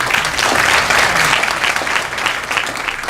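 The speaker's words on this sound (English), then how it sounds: "Clap your hands." A rally crowd applauds steadily, many hands clapping in a dense, continuous wash at moderate loudness with no pause.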